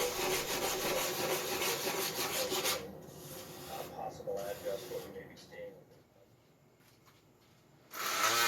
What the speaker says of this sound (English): I always move the sandpaper around in a circular motion